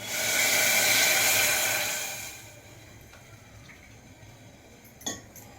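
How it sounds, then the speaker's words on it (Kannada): Water pours steadily into a pot of jaggery for sweet flattened-rice holige, a loud close gush for about two seconds before tapering into quiet, followed by a single clink of metal. "ನೀರು ಹಾಕೊತಿದ್ದೀನಿ"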